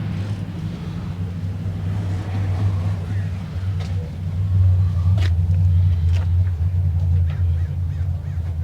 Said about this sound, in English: We got a 1970s El Camino. Sounds like the General Lee's going by,